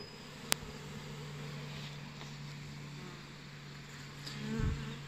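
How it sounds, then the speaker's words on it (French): A honeybee swarm being collected gives a faint, steady buzzing drone throughout, with a sharp click early on and a brief louder buzz near the end as a bee passes close. "Récupération d'un essaim."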